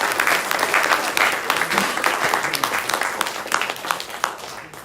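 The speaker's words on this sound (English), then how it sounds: "Can we give Claire one more round of applause?" Audience applause after a presentation on a mission trip to Malawi: sustained, fairly loud clapping from a crowd, dense and textured with individual claps standing out, gradually tapering toward the end.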